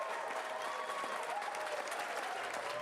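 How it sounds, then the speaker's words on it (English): A crowd at the NASDAQ opening bell ceremony for an ovarian cancer awareness event applauds in a dense, continuous patter of claps, held steady and fairly distant throughout. "We hear the applause building here"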